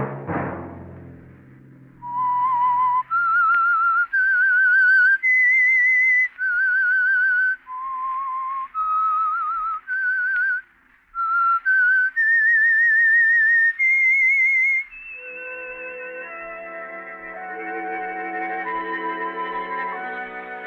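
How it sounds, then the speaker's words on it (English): A lone whistled theme melody of rising and falling sustained notes with echo and reverb, closing on a long held tone as a soft orchestral swell enters, used as the signature of the old-time radio mystery program The Whistler. "Let that whistle be your signal for the Signal Oil program, The Whistler"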